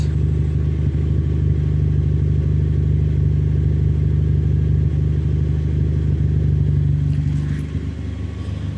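A Ford Fiesta ST fitted with a DNA Motoring exhaust drones with a deep, steady engine rumble, held at a constant pitch close to the microphone and easing off slightly near the end, with no voices.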